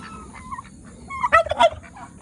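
Two-month-old Pekin ducks call close by in a quiet yard, a few short honking quacks and squawks bunched together, with soft background noise between them.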